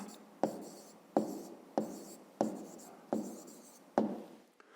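Handwriting on paper as a maths answer is written out, six sharp pen strokes scratching in a steady rhythm, close and clear.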